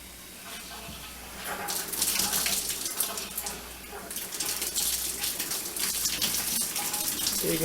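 A cold water tap in a lodge kitchen runs to flush the pipes, a steady splashing stream that swells louder after the first second and continues with fluctuating spatter, with no voices over it.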